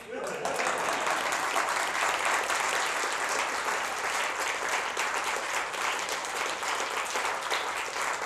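Audience clapping fills the room after a spoken storytelling performance, starting abruptly and holding as a dense, even wash of applause to the end.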